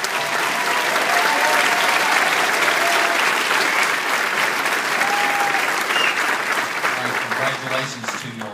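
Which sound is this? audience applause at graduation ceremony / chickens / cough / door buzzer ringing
audience applause at graduation ceremony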